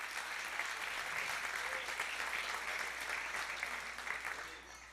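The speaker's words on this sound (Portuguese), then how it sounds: "Você pode aplaudir o Senhor?" A church congregation claps continuously during a celebration service, a dense, steady applause that fades slightly toward the end.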